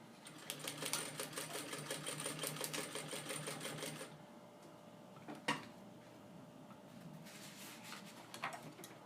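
An industrial sewing machine stitches through a thick backpack strap in a fast, even run of needle strokes that stops abruptly, followed by a few quiet clicks and handling knocks.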